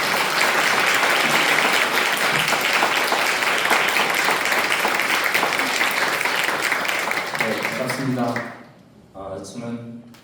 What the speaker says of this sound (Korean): 우리 큰 박수로 이제 환영해 주실까요?